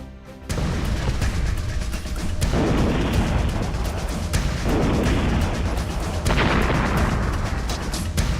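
A sustained roar of distant war in Kyiv: heavy booms and rumbling blasts overlap continuously, with surges of crackling fire, no voices.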